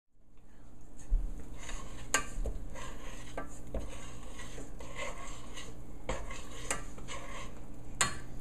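Homemade pumpkin pie play dough stirred in a pot, a spoon scraping and clanking against the metal in uneven strokes, with a soft sizzle of cooking beneath.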